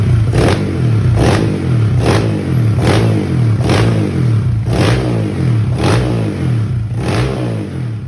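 A bored-up Honda ADV scooter engine, built for daily touring, is blipped in a series of sharp, evenly spaced revs, each rising quickly and settling back to a throbbing idle, loud and close with no talk.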